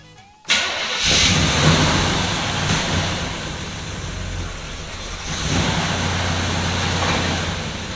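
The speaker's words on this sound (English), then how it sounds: "So now I'm going to spin the car back around" A 1968 Chevelle's engine starts up abruptly after a moment of quiet, then idles and revs unevenly nearby as the car is turned around.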